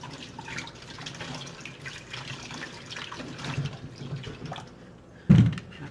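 Tap water runs steadily over freshly peeled potatoes in a kitchen sink, a soft close splashing wash that ends in a brief louder knock.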